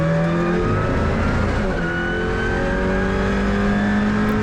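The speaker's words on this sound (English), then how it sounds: "The squeaking you can hear at the brake pads, just grabbing for life on those rotors to just slow the car down" Alpine A110 Cup race car braking hard for a corner at Nogaro circuit, engine drone loud and close with high steady squeal-like tones from the brake pads gripping the rotors, no talking.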